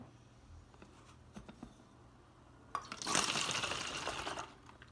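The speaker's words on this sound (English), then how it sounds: "take our left cup and pour it into our bottle on the left-hand side" Water is poured from a cup into a bottle in a quiet room, a brief splashing rush building after a few soft taps and handling noises.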